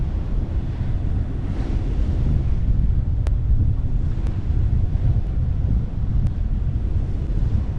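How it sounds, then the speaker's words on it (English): Strong wind of over 20 knots roaring steadily across a boat's microphone on rough open sea near a harbor entrance, with constant loud buffeting and wave wash and a few faint clicks. "Yeah, we got over 20 knots of wind here."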